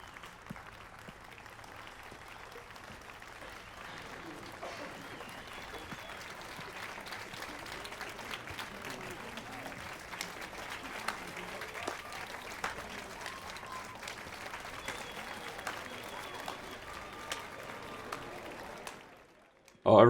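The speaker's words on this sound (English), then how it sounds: "everybody hates the fact that Geralt's clapping" Sustained applause from a theater audience in The Witcher 3, with Geralt clapping among the crowd, steady dense clapping for most of the span, then cutting off abruptly, with some crowd murmur mixed in.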